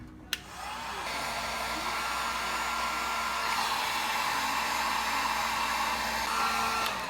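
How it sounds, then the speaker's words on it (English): Heat gun on a low setting shrinking heat-shrink tubing over a new battery terminal crimp, a steady close blowing roar that starts after a sharp click and runs unbroken for several seconds. "Get a heat gun, and then you just heat her up and it'll do its job."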